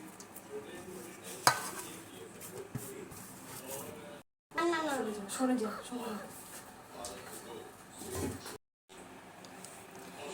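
Spiced batter of salt, cumin, turmeric and chili powder is worked together with flour and egg, with soft clinks and scraping of utensil against bowl, some pan sizzle beneath, and a person talking over parts of it.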